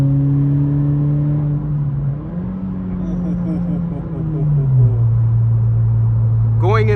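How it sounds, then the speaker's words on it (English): Engine and exhaust note of a 2023 Honda Integra heard from inside the cabin during an overtaking pull, with a steady low drone whose pitch rises and shifts across the gear, loud and continuous throughout. "you're probably just going to be hearing the exhaust a little bit more in the cabin"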